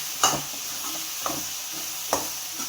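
A spoon scrapes and stirs pumpkin curry with curry leaves in a sizzling pan, three distinct strokes over a steady frying hiss, close and clear with no talking.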